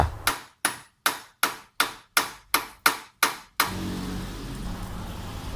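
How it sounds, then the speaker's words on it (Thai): Nine sharp metallic hammer blows on a hex nut in a steady rhythm, loosening it on a Honda Wave 125 front fork, each ringing briefly, followed by a low rumbling background noise. "ใช้ค้อนตอกสันน็อตหกเหลี่ยมครับตอกกระแทกให้น็อตคลายตัว"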